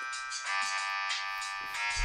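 A mobile phone ringtone playing a bright, tonal electronic melody in repeating bursts, fairly loud and clear, with no talking over it.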